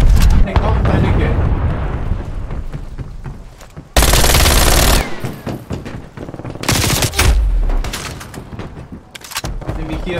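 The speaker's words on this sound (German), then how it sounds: "Artillerie entdeckt. Ja. Artilleriebeschuss." An artillery barrage in Call of Duty Black Ops Cold War multiplayer team deathmatch: loud, dense bursts of explosions and gunfire in two heavy waves, with bright booming blasts around the middle and near the end.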